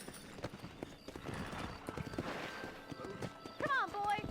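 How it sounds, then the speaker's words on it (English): Horse hooves clip-clop at a trotting pace while a rider mounts up in Red Dead Redemption (2010), and a horse neighs near the end. Someone talks over the hoofbeats. "Not quite comfortable riding a horse yet in this game"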